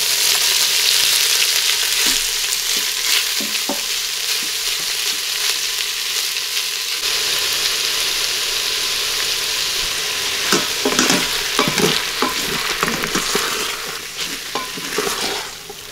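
Beef fries in a tablespoon of canola oil inside an Instant Pot, giving a steady loud sizzle with scraping stirs and clinks that grow busier toward the end, no voices.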